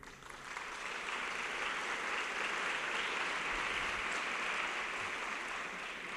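Applause from an audience at a provincial mental health and addictions congress, a broad even roar of many clapping hands sustained for about six seconds, heard at some distance with no speech.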